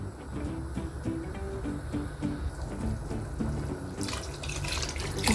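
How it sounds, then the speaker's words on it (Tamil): Mutton cooking water being poured into a pot for biryani in a home kitchen, a steady close splashing and trickling pour that grows brighter and louder toward the end. "இப்போ வந்து நம்ம மட்டன் வேக வச்ச தண்ணியை சேர்த்துக்கலாம்."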